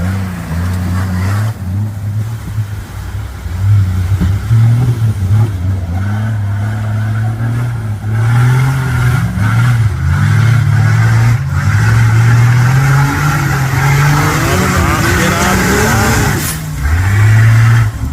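A rally truck engine revs hard and close, its low droning tone climbing and dipping through repeated throttle changes, with sustained rough roar that stays loud throughout.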